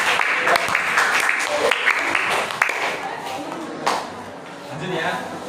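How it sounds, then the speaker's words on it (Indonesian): A classroom of seventh-grade students claps together, brisk uneven applause up close that fades after a few seconds, with children's voices and chatter mixed in and continuing as the clapping dies down. "Tepuk tangan untuk kelas 7 semuanya."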